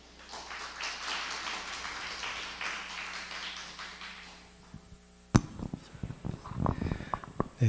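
Applause at a Reformed life theology academic conference session, a room of attendees clapping steadily for presenters and commentators, moderately distant, fading out before a few louder scattered taps and shuffles.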